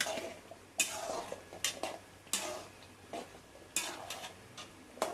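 Rava upma being stirred in a pan with a spoon, giving sharp scraping clicks and taps against the metal at irregular intervals, close and fairly faint, with no talking.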